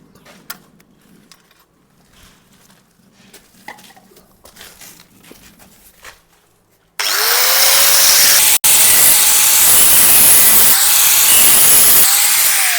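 A power grinder shaves about three millimetres off the edge of a ceramic tile, cutting in loudly after a quiet stretch with a harsh, continuous whine, one brief break and shifting motor pitch.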